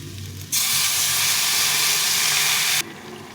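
Water poured into a hot pan of fried cauliflower stems, vegetables and small fish, bursting into a loud, steady steam hiss and sizzle that runs for about two seconds, then cuts off sharply.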